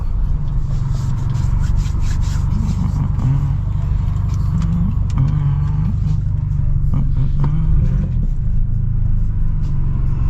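A BMW F30 328i engine runs steadily while driving after new spark plugs and coils, a loud, constant low rumble with droning road noise under it and no clear speech.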